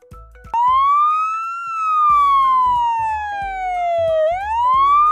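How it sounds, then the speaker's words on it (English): A single wailing fire truck siren sweeps smoothly up, slowly down, then up again, loud and steady with no voices over it. "Wow, it's a fire truck. I rush to help in emergencies."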